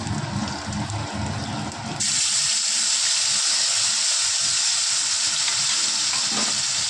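Tomato paste hits hot oil already holding black cumin seeds, and the sizzle jumps to a loud, steady, close hiss of frying and steam, alone without talk.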